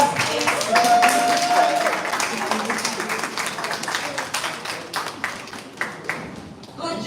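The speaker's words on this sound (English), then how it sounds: "Let's give him a round of applause, please." An audience applauds the runner-up at a primary school spelling competition, a burst of clapping that fades into scattered individual claps, with voices talking over it.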